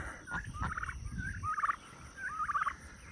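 Chickens and ducks on a farm with straw underfoot give repeated burbling, gobbling calls in short rhythmic bursts, moderately close over faint rustling and background noise, with no talking.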